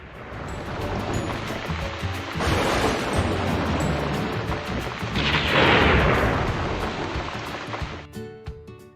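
Thunder from lightning rumbles heavily and unevenly, with rolling booms that swell and fade and a sharper crack of rising energy near the end.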